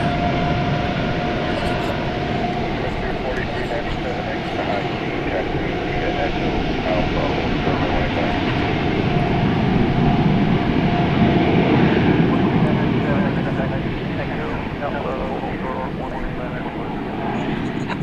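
An airliner bound for New Zealand departs DFW Airport at night. Its jet engines make a loud, steady broadband roar that swells slightly midway, and voices talk over it.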